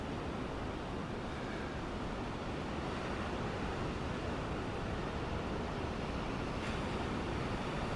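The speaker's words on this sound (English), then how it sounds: "Oh, you can hear the wind in the ocean, okay." Steady wind and ocean surf at a beach near the Surfers Paradise dredger, a dense, continuous roar of waves and gusts buffeting the microphone with no voices.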